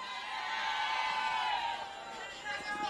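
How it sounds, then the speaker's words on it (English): Large crowd cheering and whooping at a night-time gospel concert in Castle Bruce, a dense, steady wash of many voices sustained throughout, with shouts rising and falling near and far. "Whoa, what a massive crowd in Castle Bruce tonight"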